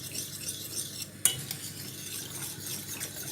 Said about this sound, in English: And we'll whisk this because we don't want any lumps in this when we're finished.